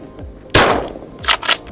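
A gunshot blasts and shatters a glass bottle target on open ranch land in West Texas, one loud sharp crack followed by breaking debris, then two quicker bursts of noise close by.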